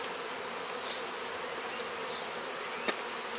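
Honeybees buzz at the hive, a dense and steady close drone that fills the whole stretch with only a brief sharp tap near the end.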